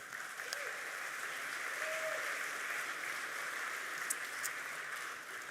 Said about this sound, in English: A round of applause, please, for Anya Anderson